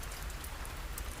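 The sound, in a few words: rain falling on cobbled streets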